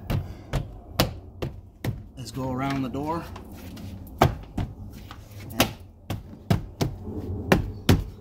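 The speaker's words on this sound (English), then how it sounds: "bump those clips in place" Plastic door panel clips are bumped into place on a 2015 Subaru WRX car door, making a string of sharp, close knocks at an uneven rhythm while someone talks.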